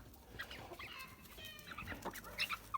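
Soft, scattered clucking from a Livenskaya Calico broody hen with a few higher peeping calls from her eight two-month-old chicks, fairly quiet against a light outdoor background.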